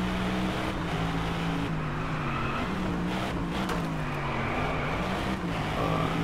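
A race car engine in the PS4 racing game Driveclub drones steadily, its pitch rising and falling through gear changes, continuous and close with no talk over it.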